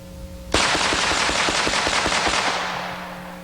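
Rapid shots from a 1911-style pistol fitted with a dot sight, about ten rounds cracking off in a quick, steady string, loud and close with no talking.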